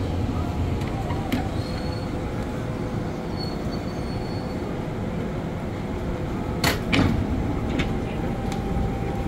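A KRL commuter train rumbles through Manggarai station at rush hour, a steady low roar of wheels on rails punctuated by a few sharp metallic squeals and clanks.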